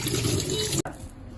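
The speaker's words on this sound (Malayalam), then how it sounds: "ഇനി ഇതിങ്ങട്ട് വെള്ളം ഇങ്ങനെ ഓടിക്കാം" Water gushes from a tap for most of the moment, then cuts off abruptly, leaving a quieter trickle at the end.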